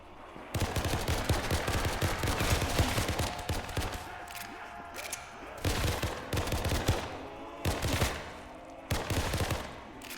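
Rapid bursts of loud, close gunfire from a pack-a-punched gun in a VRChat zombies game, several sustained volleys separated by short pauses, with brief talk between them.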